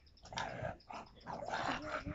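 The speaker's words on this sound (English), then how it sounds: "Have to use one hand to fend off the dog." A bulldog growls and whimpers at close range during a home workout, with short rising whines between rough low growls, fairly quiet.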